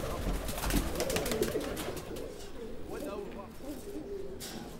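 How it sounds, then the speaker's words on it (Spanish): Pigeons coo softly in a low, steady murmur beneath a dense, noisy background of rustling and ambient clutter that lasts throughout. "Míos son las palomas."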